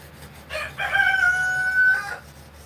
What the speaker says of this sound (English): Yes, the roosters are still here.